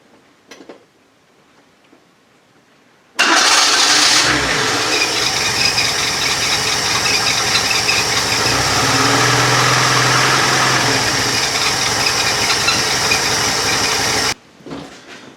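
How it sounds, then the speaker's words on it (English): Vauxhall Kadett petrol engine idling after a quiet start, then running loudly and steadily close by for about eleven seconds, with the revs lifting midway as the choke cable is pulled before the sound cuts off. "if you heard there when I pulled the cable, you could hear the engine's revs rise"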